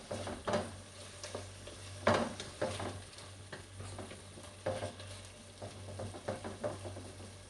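Onion and lentils frying in a pan, with soft sizzling under a string of intermittent scraping and stirring knocks from a utensil, fairly quiet and close, no voices.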